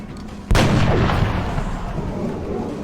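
A single loud soldier's gunshot in XCOM: Enemy Unknown hits sharply and rolls into a long booming decay, with nothing else happening around it.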